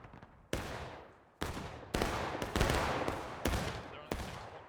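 Black-powder musket fire from the Civil War game War of Rights cracks out in a ragged volley of about seven sharp reports, each decaying quickly, spaced roughly half a second apart.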